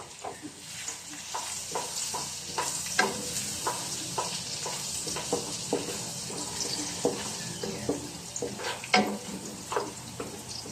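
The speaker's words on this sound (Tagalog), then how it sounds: "naglagay na na tayo ng ano, bawang" Garlic sizzles steadily in a large wok, with repeated sharp scraping stir strokes from a spatula against the pan cutting through the frying hiss at an irregular rhythm.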